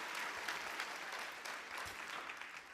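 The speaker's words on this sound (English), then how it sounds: "Give yourselves a round of applause." High school class of 2021 graduates applaud at their graduation ceremony, a dense, steady wash of many hands clapping at once, heard from some distance and fairly quiet, with no talk over it.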